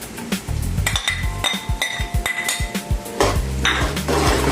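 Green chillies fry in oil with translucent onions in a pan for an okra (bhindi) dish. A steady sizzle runs under repeated metallic spoon clinks and scrapes against the pan, all close up.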